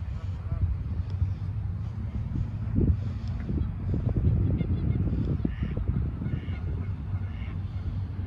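Ducks honking at a park in Mountain View, scattered calls sounding faintly over steady wind and low background rumble, with people talking nearby.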